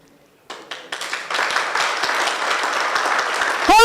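Audience applause at a research launch event, starting with a few scattered claps and quickly building into steady, dense clapping from a room full of people, ending with a brief burst of noise.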